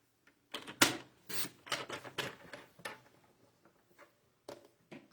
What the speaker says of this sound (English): I'm going to trim that one just a little bit more.